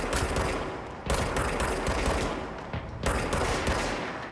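Rapid automatic gunfire rattles through the video game Control in three loud bursts, close and sustained, each clattering string broken by a short gap.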